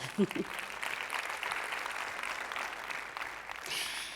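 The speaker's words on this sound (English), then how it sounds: "A round of applause." Applause from a crowd at a women's football convention, a steady wash of clapping that swells briefly after a short burst of voice at the start.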